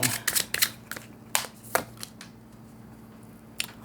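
Tarot cards are shuffled for a reading, producing quick close riffling and slapping bursts in an irregular rhythm, then a quieter stretch with one last flick.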